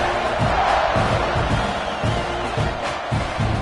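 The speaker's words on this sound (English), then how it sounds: "You think this crowd's going to get loud when their defense comes on the field?" A stadium crowd at a South Carolina at Texas A&M college football video game roars and cheers loudly, with rhythmic bursts of chanting and stomping swelling over a constant background din.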